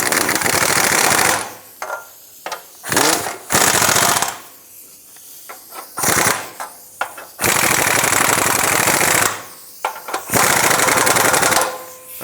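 Power tool buzzing in several bursts while snugging fuel tank bolts on a 1997-2001 Lexus ES300, loud and close, stopping and starting with short gaps between runs.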